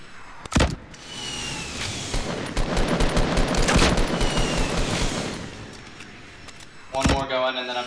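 Video-game gunfire rattles in rapid bursts with sharp impact cracks mixed in. Game effects and brief voices come and go around the shooting.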